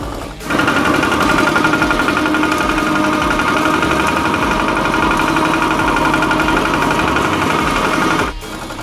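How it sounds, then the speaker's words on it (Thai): A loud, steady tractor engine with a front-mounted mower drones with a rapid mechanical chatter for several seconds, then cuts off abruptly near the end, at an agricultural fair. "อุปกรณ์พิเศษสำหรับรถไถ New Tech L on เครื่องตัดหญ้าด้านหน้า"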